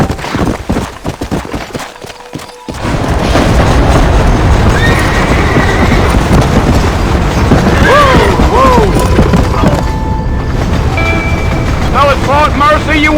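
Horses in the Red Dead Redemption video game trot out of a New Orleans setting with steady clip-clopping hooves, loud close whinnies and neighs repeating through the second half, over a dense rumbling game soundscape after a brief quieter opening.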